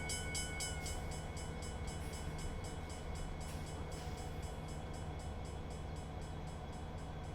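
A Norfolk Southern GP60 diesel locomotive in Train Simulator easing slowly into a siding, a steady engine rumble with rhythmic rail clicks repeating throughout at a constant level.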